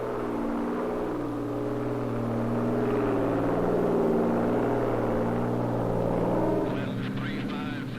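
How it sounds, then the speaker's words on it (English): A Navy Hurricane Hunter airplane drones steadily on its way toward a hurricane, a constant low propeller-engine hum swelling slightly, with a narrator's voice talking over it. "This airplane is heading toward a hurricane."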